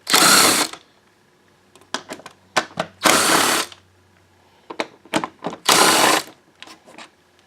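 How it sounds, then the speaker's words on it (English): Ratchet wrench undoing 8mm bolts on a Honda Civic air filter housing, close and loud: bursts of rapid clicking alternate with short single ratchet clicks in an uneven rhythm, no talking. "so you unscrew the 4 bolts"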